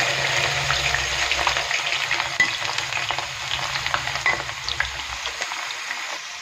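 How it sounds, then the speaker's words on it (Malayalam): Steady crackling and popping of mustard and fenugreek seeds spluttering in hot oil for gooseberry pickle, continuous and close, with a few sharper pops scattered through. "ഉലുവ നന്നായിട്ട് പൊട്ടിയിട്ടുണ്ട്"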